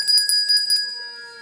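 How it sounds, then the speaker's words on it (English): A small bell rings on a theatre stage during a live play, several quick bright strikes in a rapid burst, then a lingering metallic tone fading out. "There's the bell."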